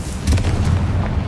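In the Hogwarts Legacy video game, the Confringo explosive spell goes off as a short, loud boom with a deep rumbling burst and a fading tail.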